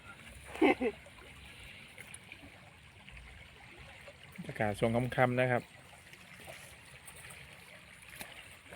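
River water rushes steadily in the background, a soft continuous flow, while someone speaks briefly over it.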